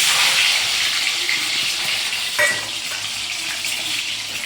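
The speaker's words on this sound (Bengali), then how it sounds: "তো ডিমটা এবার লাল লাল করে ভেজে নেবো।" Eggs sizzle in a pan of hot oil for an egg curry, a continuous close hiss with a brief clatter midway, no voices.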